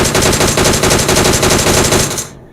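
Rapid automatic gunfire from a video game firefight rattles loud and continuous in dense bursts for about two seconds, then stops abruptly.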